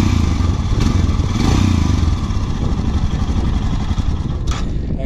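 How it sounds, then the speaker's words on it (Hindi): Royal Enfield Himalayan Scram 411 motorcycle idling with a steady, loud exhaust rumble close by, a couple of light clatters over the continuous low engine drone. "भाई कुछ इस तरह का जो है आपको एग्जॉस्ट साउंड मैं सुना देता हूँ एक बार।"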